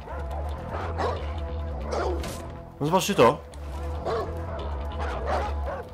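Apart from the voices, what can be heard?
dog barking and biting in the video game Far Cry 4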